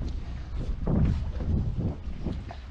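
Wind gusting outdoors at a boat ramp, buffeting the microphone in a loud, uneven low roar that swells and eases over a few seconds, with no talk.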